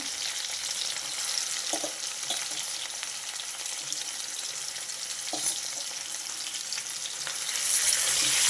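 Bitter gourd frying in a pan, a loud constant crackling sizzle with occasional stirring scrapes, swelling a little louder near the end, with no speech.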